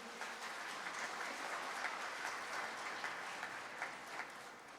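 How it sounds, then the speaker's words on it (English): Sustained applause from a conference audience at the closing of an international conference on artificial intelligence and cybersecurity, steady clapping held at an even level throughout with no pauses. "Big clap for you."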